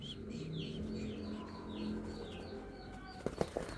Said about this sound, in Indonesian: merpati selalu saja berontak ketika hendak disuapi atau di hand feeding